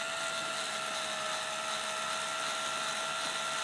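A power drill bores steadily into red oak with a sharp bit and light pressure, giving a continuous, even whine with strong tonal hum that holds unbroken throughout at close range.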